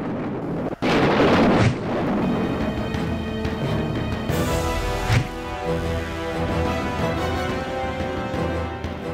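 Rolling thunder from lightning strikes, a loud sustained rumble with sharp cracks near the start and mid-clip, continuing without pause to the end.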